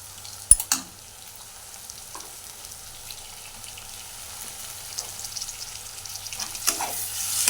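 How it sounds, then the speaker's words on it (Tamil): Chopped tomatoes sauté with onions in a pan for chicken curry: a soft, continuous frying hiss, a sharp metallic clank at the start and occasional stirring scrapes, gradually growing a little louder, without voices. "இப்போ வெங்காயம் தக்காளி நல்லா வதங்கிடுச்சு."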